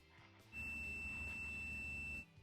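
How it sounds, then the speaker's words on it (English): A multimeter's continuity beep while testing a car seat circuit: a single sustained, steady, high-pitched electronic beep, lasting nearly two seconds before cutting off, over a quiet background. "When there's continuity, you will get a beep from the meter."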